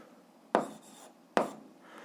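Pen on paper during an eighth-grade algebra lesson, two short, sharp scratching strokes about a second apart, close and otherwise quiet.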